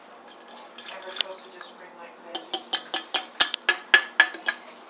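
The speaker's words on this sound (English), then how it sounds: "So first, you pour in 10 milliliters of water into the pop can." Water is poured into an empty aluminium pop can, starting as a soft trickle and turning into a series of about a dozen sharp, evenly spaced drips or glugs, close and alone.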